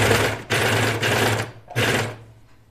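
Overlocking serger stitching a T-shirt sleeve seam in three close, loud bursts of rapid whirring, separated by brief pauses.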